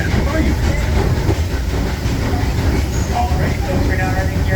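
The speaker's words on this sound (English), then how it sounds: "Welcome aboard the Disneyland Railroad." The Disneyland Railroad train running near New Orleans Square station, a steady close rumble of wheels and rolling cars with faint clacking, continuous throughout, with a voice talking over it.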